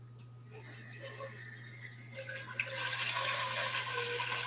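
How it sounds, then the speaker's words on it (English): Tap water runs steadily into a kitchen sink or pot while collard greens are prepared for boiling, a continuous close rushing flow with a low steady hum beneath it. "I'm going to go on and start boiling my water after I clean them."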